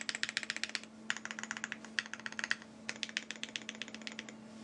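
Rapid bursts of keystrokes on a Hi-FINGER 7.5 (Extreme 75) mechanical keyboard, close and crisp, in three quick runs with short pauses between them, over a steady low hum.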